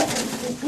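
Racing pigeons of Belgian stock in a breeder's loft in Nowe Brzesko, Poland, coo in one short, close, soft call.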